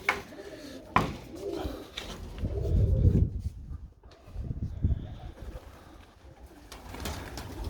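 Close, throaty cooing from pigeons rises and falls in repeated phrases, with a few soft clicks and rustles around them.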